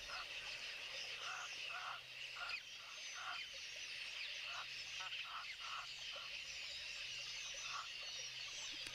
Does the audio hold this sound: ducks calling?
yes